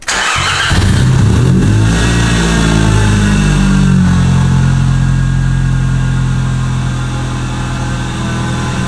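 An Audi engine cranks and fires after a coil pack install, then revs and settles into a steady, loud, close idle with no talk.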